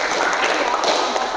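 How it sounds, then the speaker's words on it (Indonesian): A classroom group applauding together after a lesson discussion, a brief dense spell of clapping at steady moderate loudness. "Tepuk tangan dulu."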